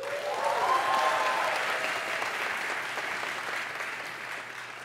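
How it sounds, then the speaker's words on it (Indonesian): Audience applause during a public university lecture on Georgetown University, a dense wash of clapping that peaks early and slowly fades, with no talking over it. "Tepuk tangan untuk Georgetown Uni."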